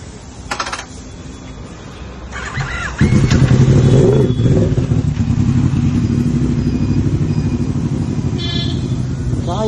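A Yamaha R1 motorcycle engine starts up loud and close after a few clicks and knocks, then holds a rough, throbbing idle with slight revving.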